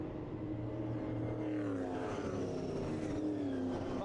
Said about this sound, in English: The V8 Oval Series is on the track at the moment, also with Melvin de Groot and Christopher N